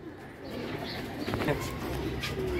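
Dubai-breed pigeons cooing at close range, soft low throaty coos with a few brief higher chirps, over a noisy background with faint voices.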